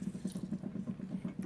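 Water squeezed out of a tuna can by pressing the lid down, a soft rhythmic series of wet squishes and trickles, quiet and close, with no talk.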